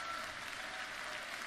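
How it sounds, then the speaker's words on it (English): An orchestra on a concert stage applauds a piper with gusto, a soft, distant, steady patter of many hands that continues without pause. "the orchestra are all applauding the piper"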